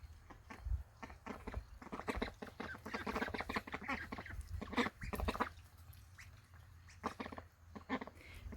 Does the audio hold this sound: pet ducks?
yes